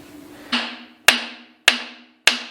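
Four sharp metallic hammer strikes land on engine parts during a budget 318 engine build, spaced roughly half a second apart, each ringing briefly before fading, close and loud with a faint hum in the background.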